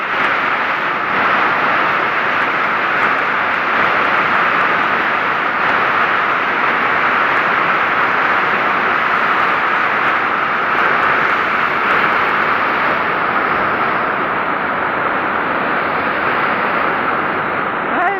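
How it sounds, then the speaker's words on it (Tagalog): Heavy typhoon rain pours down in a dense, unbroken roar, loud and close, holding steady with no voices over it. "kusog ang ulan my god"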